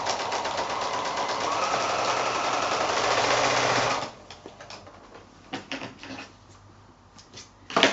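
A sewing machine fitted with a walking foot runs steadily through a quilt block for about four seconds, then stops, leaving scattered clicks and handling noises of fabric and machine parts.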